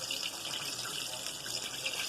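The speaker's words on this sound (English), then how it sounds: "Still got a lot of bubbling from that chicken, but it is getting close." Chicken frying in hot oil, with a steady, dense bubbling and sizzling hiss that carries on without a break. Mushrooms and onion rings are fried in the same session.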